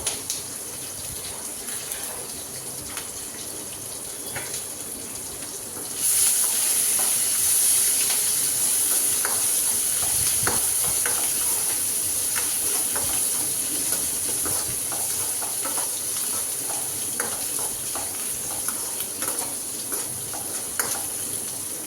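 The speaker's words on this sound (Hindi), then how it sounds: "जल्दी से ये भी फ्राई रहेगा" Okra (bhindi) frying in a pan for masala bhindi, a steady close sizzle and hiss that jumps louder a few seconds in as a new batch goes into the hot oil, with occasional stirring clicks and no talking.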